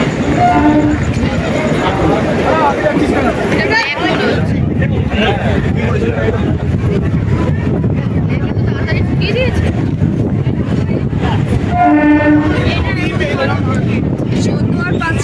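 A local train runs from Naihati to Bandel at night, its loud rumbling rattle going on throughout, with two short horn blasts near the start and end and voices faintly audible beneath the noise.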